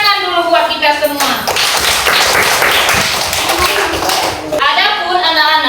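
A class of schoolchildren claps together in a classroom, a burst of quick mixed claps lasting several seconds, bracketed by a teacher's voice before and after.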